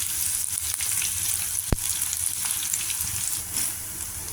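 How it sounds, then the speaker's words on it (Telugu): Chopped green chillies and ivy gourd frying in a pan give a steady, close sizzle with a few sharp pops and light stirring scrapes, and no voices. "ఇవి కూడా వేసేసుకొని బాగా కొద్దిగా పచ్చివాసన పోయేదాకా వేయించుకోవాలి"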